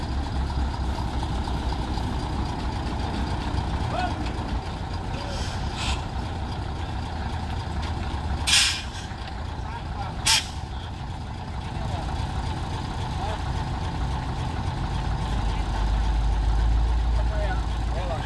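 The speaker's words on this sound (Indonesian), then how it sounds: "Ya, ini truk dam ya." A dump truck's diesel engine idles steadily with a low rumble, broken by two short, sharp air brake hisses midway, while voices talk nearby.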